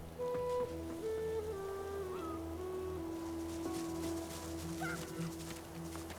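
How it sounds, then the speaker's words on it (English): Hens cluck in Divinity: Original Sin 2 over a steady background hiss like rain, with several short pitched calls and squawks arriving one after another at moderate distance, and no talking. "Chickens!"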